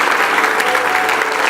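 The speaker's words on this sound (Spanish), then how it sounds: "te damos el mejor aplauso de toda nuestra vida a ti" A church congregation applauds with loud, dense, sustained clapping from many hands, close and continuous for its whole short length.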